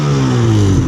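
An Arctic Cat snowmobile engine revs steadily while its primary clutch grips the drive belt too hard, giving a loud, close, continuous droning hum with a strong low tone and no pauses.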